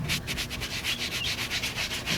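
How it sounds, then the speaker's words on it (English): A hand rubs back and forth over Alcantara suede to loosen its fibres, making a steady, rhythmic soft brushing sound of about a dozen strokes, close and alone. "This initial rubbing should just kind of get them loosening up."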